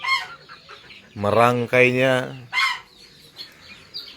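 Chickens cluck and squawk loudly up close around a makeshift wooden chicken coop, a burst of strained clucking in the middle with softer clucks before and after, a voice briefly speaking at the start.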